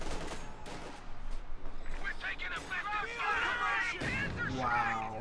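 Mortar half-track fire and exploding shells on a snowy Coldcast map in Company of Heroes 2, with several sharp gunfire bursts under excited play-by-play commentary.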